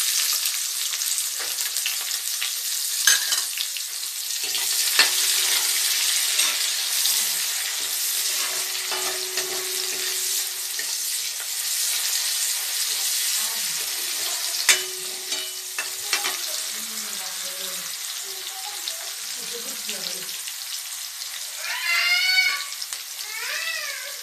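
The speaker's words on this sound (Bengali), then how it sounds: "দেওয়ার পর আমি এখন আমি পেঁয়াজ কুচি দিয়ে দেব" Chopped onion frying in oil with nigella seeds, cumin and bay leaf for masoor dal with drumsticks, a steady loud sizzle with stirring scrapes throughout; a cat meows several times near the end.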